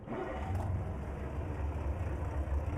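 A steady low engine rumble idles throughout, a Ford Cargo 2520 truck motor running evenly in Euro Truck Simulator 2 with realistic sound mods, no talking.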